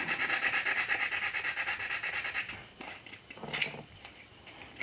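A resin figure is rubbed smooth by hand with sandpaper before priming, heard as a fast, regular back-and-forth scratching close by that stops midway, followed by a few quieter scrapes and handling noises.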